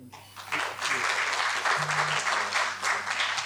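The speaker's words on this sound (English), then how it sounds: "Another round of applause for that wonderful presentation" An audience applauds at the close of a conference presentation, a dense wash of clapping from many hands that swells quickly and holds steady, fairly loud in a hall.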